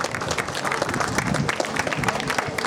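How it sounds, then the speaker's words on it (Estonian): Spectators at a folk run awards ceremony applaud the race winners, brisk dense clapping from a gathered crowd with individual claps audible up close and a murmur of voices beneath. "võite kõige kõvem aplausi teha neile"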